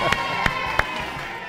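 Middle-school students cheer at a school quiz game, a steady crowd roar with shouts and a few sharp claps or thumps punctuating the noise.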